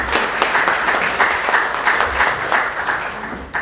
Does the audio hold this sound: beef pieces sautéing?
no